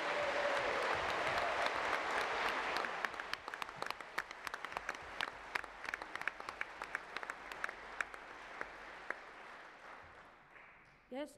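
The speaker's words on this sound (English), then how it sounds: "Yes, cheering because it was a good speech." A party conference audience applauds after a speech, dense clapping at first that thins into scattered individual claps and fades, with a voice speaking briefly at the end.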